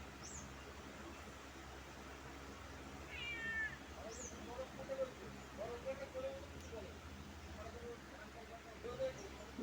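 A house cat gives several short meows at a moderate distance during play with a dog outdoors beneath a tree, set against a low background hum.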